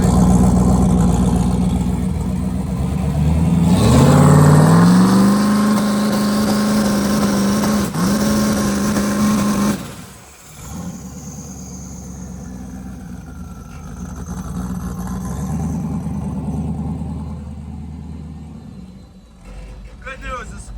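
A turbocharged LS-swapped Ford Ranger fires up for the first time and runs, a loud engine roar rising then settling into a steady rumble, with people talking over it throughout.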